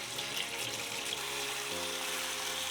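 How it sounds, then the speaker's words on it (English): Tap water runs steadily over cut pieces of a medium cauliflower being washed in a kitchen sink, a continuous close splashing hiss with no talking. "Cut a medium cauliflower by this way. Wash it properly"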